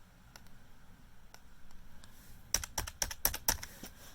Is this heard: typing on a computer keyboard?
yes